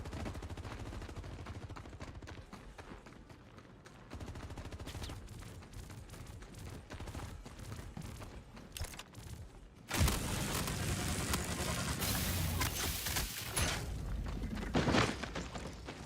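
Continuous automatic gunfire from a gun in a first-person shooter game, steady rapid shots that swell into a louder, denser barrage in the second half.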